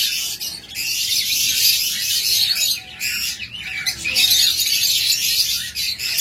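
A pair of pet cockatiels or lovebirds calling up close, with shrill, rasping chirps and squawks in dense bursts broken by brief pauses, loud and bright.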